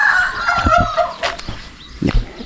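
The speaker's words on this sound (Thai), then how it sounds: "มี ตัวไก่หลายตัวอยู่" Chickens at a rural school farm area with crops and livestock: a rooster crows and hens cluck nearby, loud and close, in short repeated bursts.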